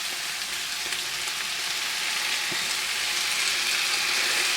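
Blanched beans and greens fry with onions in a pan, giving a steady, dense sizzle that stays close and even throughout, with no voices.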